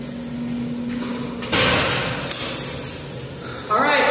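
Elevator door in a parking garage in downtown Gulfport, Mississippi, sliding open with a smooth whoosh over a steady motor hum, followed by a sharp thump as it stops.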